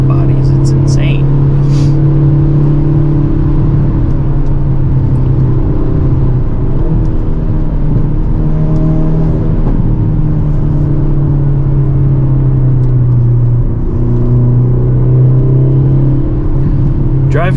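A 2022 Hyundai Elantra N cruises along a road, its engine and road noise forming a steady low drone with gentle pitch shifts, heard from inside the cabin with someone talking over it much of the time.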